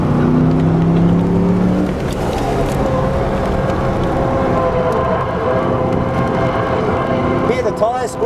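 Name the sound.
Monaro car tyre squeal on a race track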